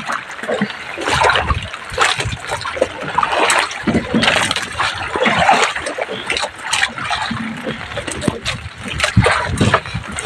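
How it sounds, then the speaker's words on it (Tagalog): Waves splashing against a small boat in a rough, worsening sea, irregular slaps and sprays of water throughout, with people talking over the sound. "Lumalakas na yung alon."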